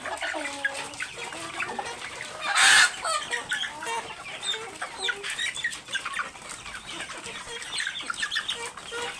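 Australorp hens on a farm clucking and cackling steadily, with one loud, sharp squawk standing out near the start amid a busy flock.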